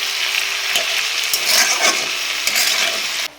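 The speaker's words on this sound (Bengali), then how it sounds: "নিরামিষ সবজিটা আর একটু নাড়াচাড়া দিয়ে নামিয়ে নিচ্ছি" A vegetarian vegetable dish sizzles loudly in a pan as it is stirred, a dense steady frying hiss with scraping utensil strokes, cutting off abruptly at the end.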